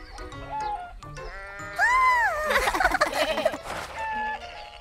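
A series of nasal, quavering goat bleats, some short and one drawn-out and wobbling, close by with other animal calls mixed in.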